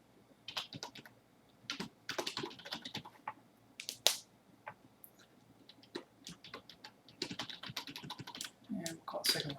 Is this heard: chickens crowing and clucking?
no